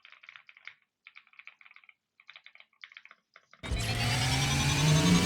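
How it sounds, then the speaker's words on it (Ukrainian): Rapid clicky keystrokes on a computer keyboard, heard through a HATOR Hypergang 3 Wireless headset microphone, come in short bursts with brief pauses, then a loud steady whirring motor suddenly starts and drowns everything. "невеликий тайпінг-тест, щоб ви могли зрозуміти, як ваші друзі чутимуть вашу клавіатуру"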